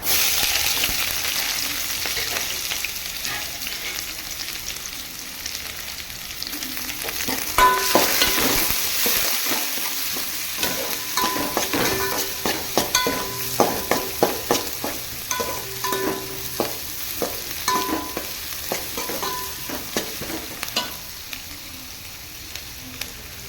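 Onions and garlic frying in hot oil for a drumstick leaf stir-fry, a constant close sizzle that turns busier as a spoon scrapes and stirs in a run of sharp clicks, with no talk.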